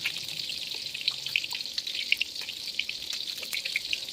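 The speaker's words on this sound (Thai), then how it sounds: "ทอดให้เขากรอบหน่อยนะคะ" Mackerel frying in oil until crispy, a soft continuous sizzle with scattered small pops and crackles, fairly quiet and without voices.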